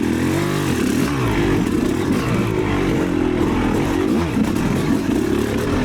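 A Yamaha YZ300 two-stroke dirt bike engine revs loudly and up close, its pitch rising and dropping as it downshifts, with a raspy buzzing tone and some rattle.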